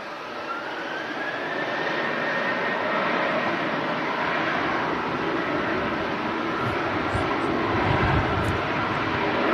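Ryanair jet airliner departing Manchester Airport, a loud, steady broadband engine roar that swells and holds throughout, close by and alone without talk.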